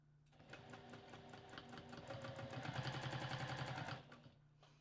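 A domestic sewing machine running free motion quilting stitches along a leaf pattern, a steady rapid mechanical whir with fast repeating needle ticks that speeds up near the end, then stops abruptly; quiet and close, no speech.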